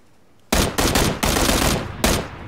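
Gunfire in PlayerUnknown's Battlegrounds: after a half-second of quiet, loud close automatic bursts ring out in three or four chunks, with short gaps between them and no talking over them.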